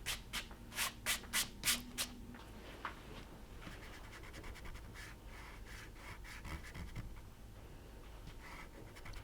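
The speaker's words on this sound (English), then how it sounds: "you can wipe your shavings off your paper" Eraser shavings are wiped off drawing paper by hand, giving a quick run of about seven soft, rhythmic brushing strokes close up. Fainter, irregular rubbing follows over a quiet background.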